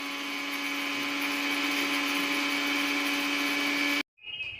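Mixer grinder grinding cumin and coriander seeds into powder, a loud steady high-pitched motor whine that cuts off abruptly, then a short restart burst.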